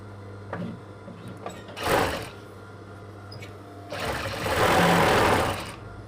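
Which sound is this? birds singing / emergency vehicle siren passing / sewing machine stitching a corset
sewing machine stitching a corset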